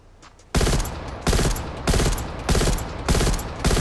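Weapon fire in the video game Call of Duty Cold War, loud repeated bursts of rapid gunfire separated by short gaps, following a quiet opening.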